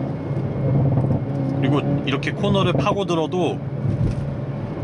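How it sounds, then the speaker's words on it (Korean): A Hyundai Kona N with a 2-litre gasoline turbo engine rumbles and revs while cornering, its exhaust note running steadily beneath someone talking in the cabin. "배기음을 한번, 지금 팝콘 사운드가 들리시나요?"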